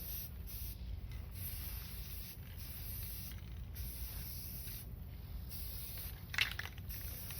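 A spray paint can sprays a Char Griller grill during a rust restoration in short, repeated hissing bursts, each a few tenths of a second long with brief pauses between, fairly faint and close.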